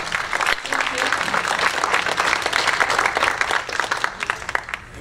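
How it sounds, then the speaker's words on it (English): Audience at a city community preparation meeting giving a big round of applause, sustained dense clapping throughout with some voices mixed in, tapering slightly at the end. "Let's have a big round of applause."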